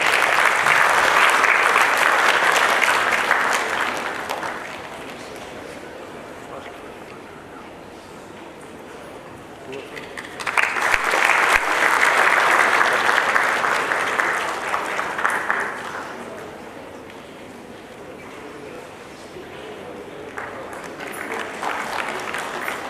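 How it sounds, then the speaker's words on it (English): Sustained audience applause fills a ceremony hall at a capital markets programme, swelling in two long bursts with a softer lull between and rising again at the end, with no voices over it. "a huge round of applause for both of you."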